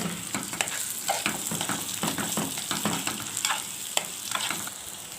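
Half a kilo of rice fries in a pot, giving a steady close sizzle with repeated scraping stirs and small clinks throughout, no voices.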